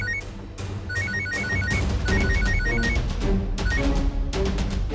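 A telephone rings in repeated bursts of bright electronic trilling, fairly loud and close, with busy background noise underneath and no talking.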